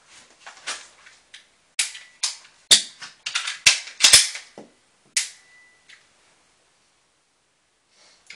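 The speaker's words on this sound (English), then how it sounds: "we'll demonstrate a magazine change" A Smith and Wesson Shield pistol gets a magazine change, heard as a close run of sharp metallic clicks, clacks and snaps in quick bursts, followed by quiet with a few faint handling sounds.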